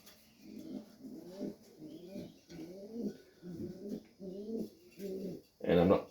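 Serbian Highflyer pigeons coo in a loft, a steady run of soft, low, rolling calls repeating about once a second, close and clear, with a louder burst of cooing at the end.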